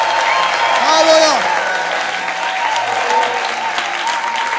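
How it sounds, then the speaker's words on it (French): A church congregation applauding during a worship service, a steady clapping wash with a voice and a sung or shouted tone rising over it. "Applaudissez le Seigneur."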